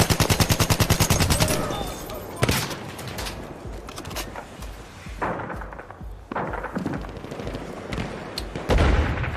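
Battlefield 1 gunfire: a fast machine-gun rattle at first, then scattered loud shots and heavy booms in a busy battle mix, with a voice speaking briefly.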